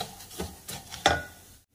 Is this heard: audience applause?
no